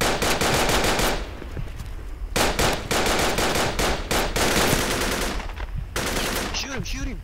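Rapid bursts of automatic gunfire from the Project Reality military shooter, set in the Battle of Ia Drang, rattling loud and continuous with short pauses between volleys.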